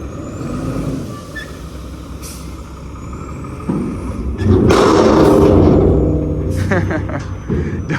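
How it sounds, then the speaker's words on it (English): Dump truck doors banging open to let a load of dirt out, heavy thuds and clanks breaking over a steady truck engine rumble and air-brake hiss, with voices talking throughout. "They be hitting the dump truck so aggressively to let all that dirt out."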